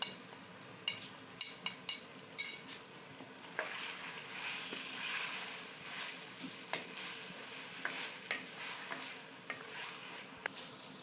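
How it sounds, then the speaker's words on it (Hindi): Chicken for a chicken korma fries in a pan and is stirred, a soft close sizzle broken by regular scraping spoon strokes and light clicks, fairly quiet with no talking. "चिकन को हमने अच्छी तरह से फ्राई कर लिया है।"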